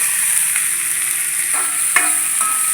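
Beans and carrots frying in oil in a pan for Kerala-style upma, stirred with a spoon: constant close sizzle with a few light scrapes and clinks against the pan, no talking.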